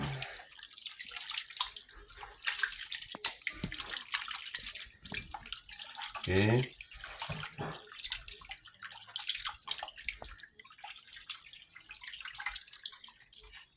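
Pieces of pork are washed by hand in water, with soft, intermittent splashing, dripping and sloshing at close range and one brief gurgling swirl partway through, fairly quiet throughout.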